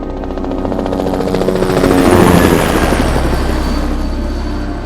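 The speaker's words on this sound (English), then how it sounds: "It's a delight to see the helicopter hovering above us and spraying the mist." A loud, steady helicopter drone with rhythmic rotor chop fills the air over hilltops while spraying pesticide, swelling slightly midway as if hovering close overhead.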